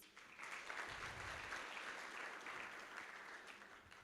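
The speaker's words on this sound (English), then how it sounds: "may I ask the room to give them a round of applause, please." A conference room audience at an international water, peace and security conference in Nairobi gives a round of applause: sustained, dense clapping at a steady level, with no speech over it.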